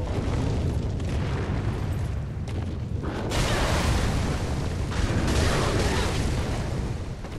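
Fire attack from a gargoyle in Dark Souls 3, heard as a continuous loud roaring, booming blast that swells and persists for several seconds with no break.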